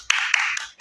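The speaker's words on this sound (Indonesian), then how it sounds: "Tepuk tangan dulu." A small group of students clap at the start of a class talk-show presentation, a brief, close flurry of a few claps lasting under a second.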